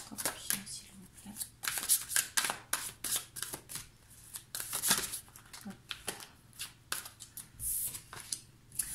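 Tarot cards are shuffled and drawn in bursts of crisp, close riffling and flicking, repeated in uneven clusters, while someone talks throughout.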